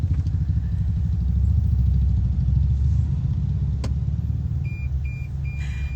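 Road traffic in a jam, a steady low engine rumble and idling vehicles throughout, with a few short beeps near the end. Clear horn blasts are not evident. No one speaks.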